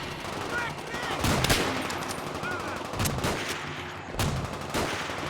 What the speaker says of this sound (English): use my bolt action to eliminate the guy from distance